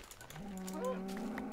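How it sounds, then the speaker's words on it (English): A single drawn-out moo from a cow in Minecraft, clear and close, rising and then holding steady against a quiet game background. "Cow!"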